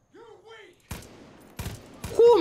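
Gunfire in the video game Far Cry 5 at an enemy outpost: three sharp shots with a short gap between them, loud and close. Speech comes before the shots, and a voice cries out over the last one.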